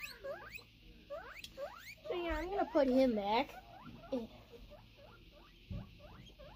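A pet guinea pig wheeks and squeaks loudly in rapid rising calls, close by, with a person talking over part of it.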